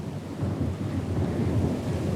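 Stormy weather at sea in Pillars of Eternity II: Deadfire, with a continuous low rumble of thunder and dense rain hissing steadily throughout, no speech.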